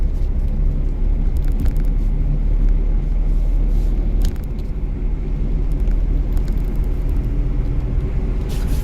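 A car engine held at steady revs during a first-day driving lesson, a loud continuous close rumble inside the cabin with no voices.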